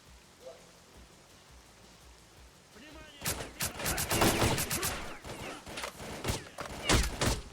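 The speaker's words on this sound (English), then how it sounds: "Oh, we got somebody shooting from the other side there." Gunfire in the video game STALKER: Clear Sky: after a quiet stretch, a loud burst of rapid shots erupts, then continues in sharp irregular volleys.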